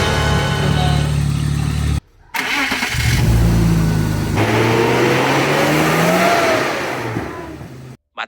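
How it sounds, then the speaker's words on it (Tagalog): A BMW with a camshaft sensor fault code cranks briefly and fires up, the engine then revving loudly and settling into a steady, close idle with no talk. "Matapos nga paandarin ang makina ni Beamer"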